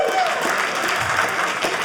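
An audience at a stand-up comedy show applauds steadily, a dense continuous wash of clapping from a crowd, loud and close throughout.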